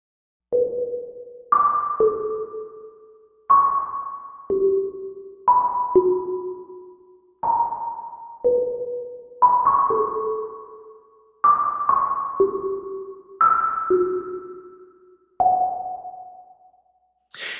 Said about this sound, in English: Just a really nice little pluck sound.